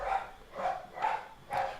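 Dogs barking in the background, four evenly spaced barks at moderate distance, each one clear and with nothing else over it.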